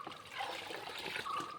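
Cow dung slurry is poured onto garden plants such as tomatoes, giving a close, continuous gushing and splashing of thick liquid that stays fairly even throughout, with no voices.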